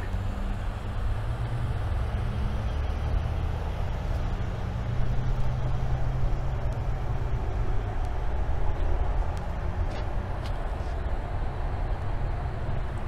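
A 2015 Cadillac XTS idles quietly, producing a soft, steady low hum that continues evenly with no revving or voices.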